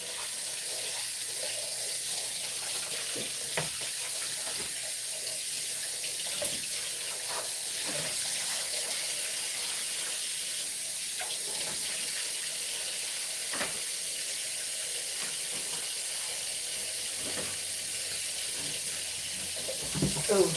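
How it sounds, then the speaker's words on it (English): Tap water runs steadily into a kitchen sink during dishwashing, a constant close hiss with occasional clinks and splashes over about twenty seconds, with no talking. "let me get these dishes done. I'm wasting water."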